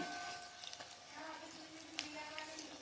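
Sugar-filled paratha frying in hot oil, a soft steady sizzle with faint bubbling and occasional small pops, quiet and continuous.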